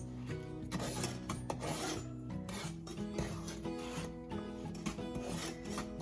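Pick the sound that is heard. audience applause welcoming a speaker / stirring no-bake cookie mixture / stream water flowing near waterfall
stirring no-bake cookie mixture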